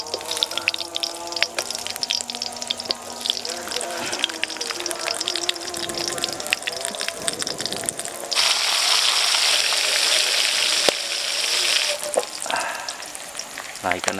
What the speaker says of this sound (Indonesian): Kita goreng ke asinnya.